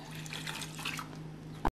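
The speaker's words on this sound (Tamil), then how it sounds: "சோ 3 கப் தண்ணிக்கு 1 கப் SLESம் 1/2 கப் பீட்டேனும் ஆட்" Liquid betaine trickles and splashes as it is poured into a shampoo mixture of water and SLES, a steady close pouring sound ending in a short knock.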